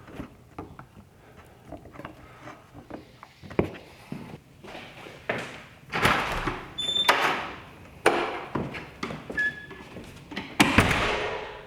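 A garage entry door with an automatic closer is heard amid handling, with scattered knocks, thumps and a few clicks building to louder bangs near the end, indoors and close.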